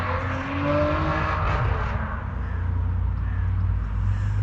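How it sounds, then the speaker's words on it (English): Crows caw outdoors, several hoarse calls early on over a steady low rumble of passing traffic, then the calls drop away and the engine drone continues. "Look at our little crows."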